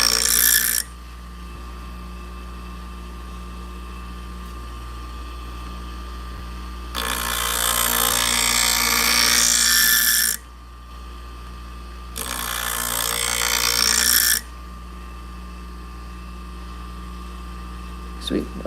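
Kitchen knife being sharpened on a stone, two long bursts of gritty scraping strokes separated by quieter pauses, close and fairly loud over a steady background hum.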